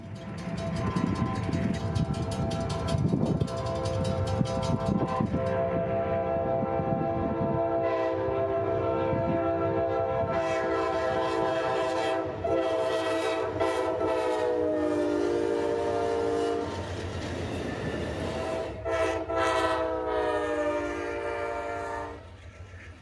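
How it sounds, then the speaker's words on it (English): Amtrak 92 passenger train led by heritage Locomotive 145 notches up leaving its Tampa, Florida station stop, its diesel engine roaring steadily as long, loud horn blasts sound close by throughout, alone without talk. "now carries CSX locals and trains like Amtrak 92, notching up out of its Tampa station stop."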